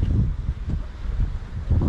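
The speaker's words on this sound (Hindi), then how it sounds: "इतनी गदर हवा चल रही है ना" Strong wind buffets the microphone on a hilltop in Pithoragarh, a steady, close, rumbling roar that swells in gusts throughout, with no voices over it.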